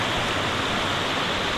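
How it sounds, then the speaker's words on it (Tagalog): The Labi River flows over large rocks in a steady, close rushing wash that stays full and unbroken throughout the short stretch, with no voices. "Labi River."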